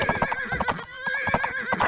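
A horse neighs and whinnies repeatedly with clip-clop hoofbeats during an Age of Empires match, sharp bright calls set against quieter game sounds and no speech.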